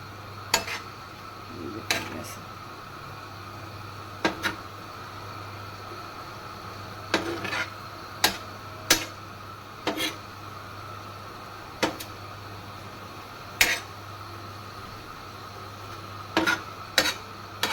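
Tawa qeema with yogurt and oil fries on a hot griddle under a low, steady sizzle, while a spatula strikes and scrapes the pan in sharp, irregular clinks every second or two.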